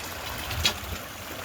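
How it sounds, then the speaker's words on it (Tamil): Water runs steadily through a channel, producing a soft continuous trickling wash heard faintly from nearby with a slight swell midway, no voices present. "நல்லா கொஞ்சம் தண்ணி இந்த இதில் போயிட்டுருக்கு"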